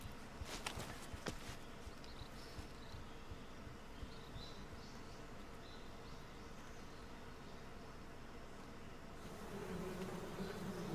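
Bees buzzing around a beehive in the video game Metal Gear Solid 3: Snake Eater, a faint continuous insect drone with a few soft footstep-like taps and a slight rise toward the end.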